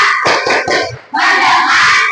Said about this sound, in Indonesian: kita tepuk fokus terlebih dahulu